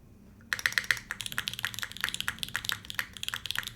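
Quick, uneven typing on a custom-built mechanical computer keyboard with ABS keycaps, bright close clacks in bursts after a brief quiet start, with no speech over it.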